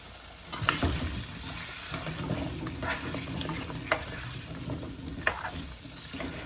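Potatoes frying in oil in a pan on medium heat, a steady sizzle with scraping stir strokes and occasional clicks, close and moderately quiet.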